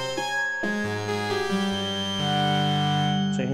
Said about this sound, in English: This has got a bit of chorus with feedback and some reverb on it.